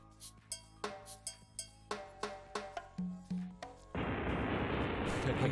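A loud burst of explosion sound effect, a sustained roaring blast with dense rumble that follows a series of short percussive hits and fills the final seconds.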